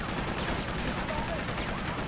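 A large mounted gun firing in Uncharted, a dense rumbling stream of rapid heavy shots, steady and continuous for the whole moment.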